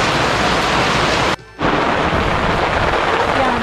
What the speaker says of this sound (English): Rain really a fall hard.